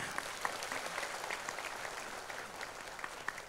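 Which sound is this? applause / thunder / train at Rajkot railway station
applause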